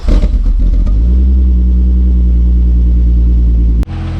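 A Volkswagen Mk3 wagon with a turbocharged VR6 engine idles close by, loud and smooth and even, after a brief rough rumble at the start, and a sharp click comes near the end.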